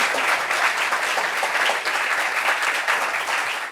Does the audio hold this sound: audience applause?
yes